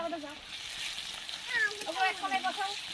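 Dried chilies, garlic and chili powder frying in a wok over an outdoor clay stove by a pond, a soft steady sizzle under nearby voices talking.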